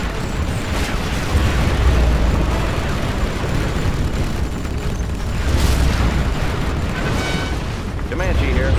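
Cruise missile strikes in Command & Conquer Generals, an Alpine Assault skirmish, bring a dense, loud, continuous roar of explosions and rumbling booms that swell and ebb over the battlefield, with game voice chatter mixed in.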